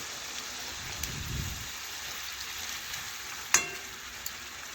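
Papaya curry with spices simmering in a pot on a stove gives a soft, steady bubbling sizzle throughout, with one sharp click near the end.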